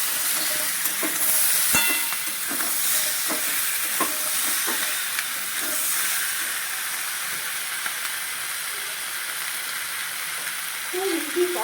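Jackfruit chili with a little jaggery is stirred in a pan, a spatula scraping and knocking in irregular strokes over a constant frying sizzle and hiss, all close by.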